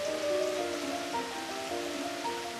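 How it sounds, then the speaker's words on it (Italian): Rain keeps falling on a hiking trail along the Via degli Dei between Bologna and Florence, a steady wash of patter under faint tonal sounds, with no one speaking. "Praticamente la pioggia è durata fino adesso"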